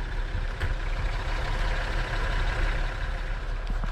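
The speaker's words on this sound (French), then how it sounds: "La route, on l'entend passer" Steady low rumble of vehicles passing on a nearby road in snowy weather near the Croatian border, constant and moderately distant with no talk over it.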